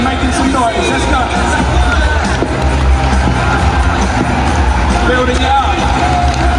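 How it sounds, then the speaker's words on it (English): Big arena crowd at a monster truck glow party in Leeds, a dense, steady roar of cheering, whoops and clapping that fills the space continuously at high volume, with babble of voices mixed in. "So let's start clapping and making some noise."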